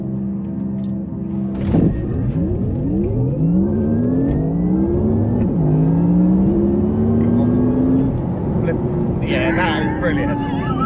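A Porsche Taycan Turbo electric car launching hard under launch control, a loud rising electric-motor whine sweeping upward in pitch through the acceleration, heard from inside the cabin with tyre and road roar and people talking.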